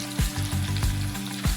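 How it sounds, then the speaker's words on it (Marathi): Cumin seeds hit hot oil for an urad dal tempering, giving a loud, close, crackling sizzle with a few short bursts of spatters over a steady frying hiss. "फोडणीमध्ये तेलामध्ये थोडं जिरं टाकायचं आहे."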